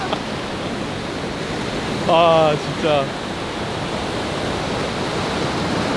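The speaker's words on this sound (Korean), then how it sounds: "파도가 엄청나네." Powerful ocean waves crash on the beach at Seminyak, Bali, a continuous broad roar of surf throughout, with a person speaking briefly near the middle over the waves.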